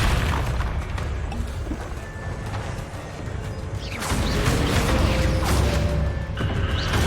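A Bombarda spell goes off in Hogwarts Legacy, with a heavy booming blast rolling through the game's rumbling ambience and a second burst swelling partway through.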